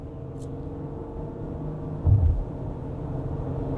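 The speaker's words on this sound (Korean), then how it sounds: "그 엔진 소음이 안으로 조금씩 들어오기 시작하네요." Audi Q8 50 TDI SUV accelerating hard, its diesel engine a steady low rumble heard from inside the cabin, with a brief louder surge partway through.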